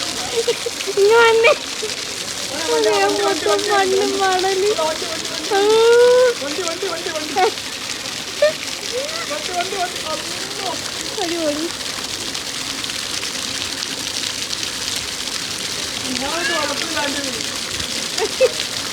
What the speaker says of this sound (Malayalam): ആ മഴ എൻ്റെ ദൈവം